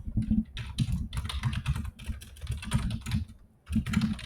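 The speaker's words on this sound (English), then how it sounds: "So you're just typing this in." Rapid typing on a computer keyboard while entering plant-tracker details into a spreadsheet, with dense, steady clusters of close key clicks and a brief pause near the end.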